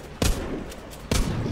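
Two sharp gunshots from the zombie survival game The Walking Zombie 2, spaced about a second apart, each a loud broadband crack with a short decaying tail over a steady game background.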